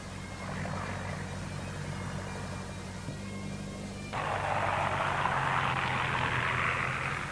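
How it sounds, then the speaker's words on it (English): A Supermarine Spitfire's engine drones overhead, a steady rumbling roar that swells louder and brighter about halfway through as the aircraft draws nearer, with no voices. "The unmistakable sound of a Supermarine Spitfire."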